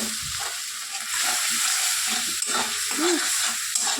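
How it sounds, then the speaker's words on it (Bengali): Potato, pointed gourd and fish roe with spices sizzle and fry in a pan while being stirred, a steady close hiss of frying with soft scraping of the spoon. "ভালো করে নেড়ে নিচ্ছি।"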